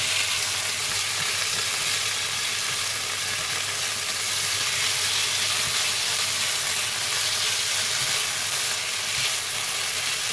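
Beef sautéed with green beans and pineapple over high heat, a loud, continuous hissing sizzle that holds steady throughout, close up, with no talking.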